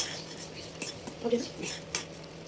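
Wheat rava kesari stirred in a pan with a utensil, giving a few soft, irregular scrapes and light metallic clinks over a quiet background.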